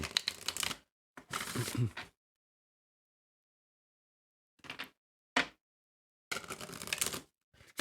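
Tarot cards being shuffled in several quick bursts, a long riffling stretch at the start, short flicks in the middle, and another riffle near the end, with silence between.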